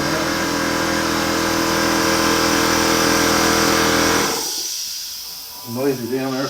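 An air compressor runs loud and steady with a broad droning hum and hiss, then cuts off partway through, after which a voice briefly speaks.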